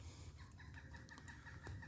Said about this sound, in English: ooh, I hear a bird.